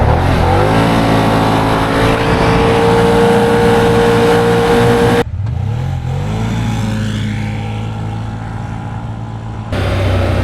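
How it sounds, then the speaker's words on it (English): Four-wheeler ATV in sport mode and high range launching at full throttle on pavement, tires breaking loose; a loud, sustained engine roar with steady revving that drops briefly mid-run then climbs again, with no talking. "He had a four-wheeler ripping the tires loose on pavement in high range."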